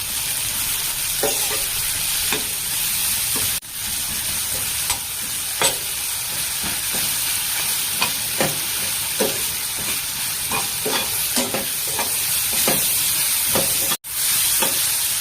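Steady sizzling of food frying in a pan with salt added, with a series of soft stirring scrapes scattered throughout; no voices.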